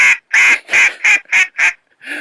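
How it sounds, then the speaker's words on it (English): Six loud, distinct duck quacks from a duck call trainer, each short and nasal, spaced in a steady rhythm, then a seventh starting at the end, close up with no talking. "we'll just let that quack a little bit"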